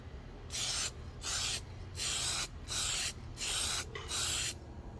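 Spray paint laid as another coat on a car emblem: six even hissing bursts in a steady rhythm, each about half a second long with short gaps, close and fairly quiet, no voices.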